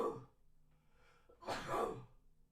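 A single person sneezes, a short breathy intake followed by a louder burst, close and alone with no talk.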